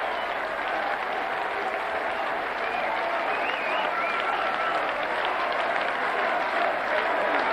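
A packed crowd at the 1997 BDO Lakeside World Darts Final gives sustained, loud applause and cheers for the newly crowned champion, with a commentator's voice faintly audible beneath the clapping.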